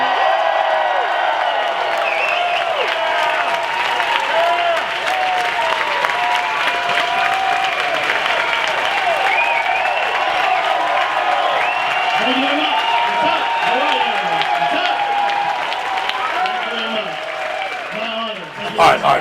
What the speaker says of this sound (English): See how loud you can get when I say the name, Joe Rogan, everybody.